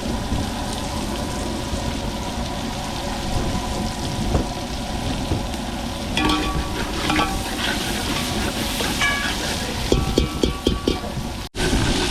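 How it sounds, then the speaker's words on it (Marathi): Onion and garlic cooking in oil in a pan aboard a fishing boat off Mumbai, a steady broad sizzle with stirring scrapes and clinks, plus some background rumble from the surroundings. "आता आपण कांदा लसूण तेलामध्ये शिजवणार आहोत"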